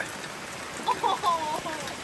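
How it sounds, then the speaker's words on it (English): Heavy rain pours steadily on a campsite at Mount Blue State Park, Maine, a constant close hiss with faint voices briefly heard over it. "It is raining so bad."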